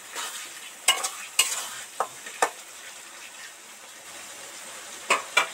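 Chicken curry masala is stirred and deep-fried in oil until the oil separates. A soft sizzle runs underneath a few sharp, spaced scrapes and knocks of the spatula against the pan, with no talking.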